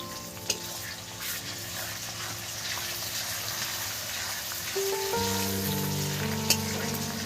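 Ginger dropped into a hot pan of chicken pulao sets off a steady, close sizzle and frying hiss, with stirring scrapes and a sharper burst of sizzle partway through; no one talks.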